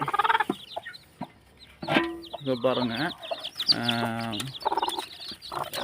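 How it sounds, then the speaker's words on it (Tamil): Hens cluck and call up close while newly hatched chicks peep in high, rapid bursts; someone speaks briefly between the calls. "இது வந்து குஞ்சுகள் பொறிச்சிருக்குது பாருங்கள்"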